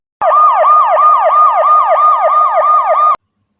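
A police siren wails in a steady, rapid rising-and-falling pattern, loud and close, sounding continuously for about three seconds before cutting off abruptly.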